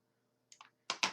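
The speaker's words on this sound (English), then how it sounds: "highlight the sheets first by starting at the bottom, left clicking there and dragging all the way up to the top" Four sharp, close clicks from a computer mouse in an otherwise quiet room, a light pair followed by a louder pair a moment later.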